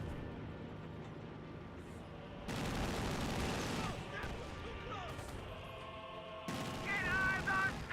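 Strafing gunfire from a P-47 fighter plane in Company of Heroes 2 hits a garrisoned building, heard as bursts of dense rattling fire and booms over a busy battle soundscape, with speech mixed in.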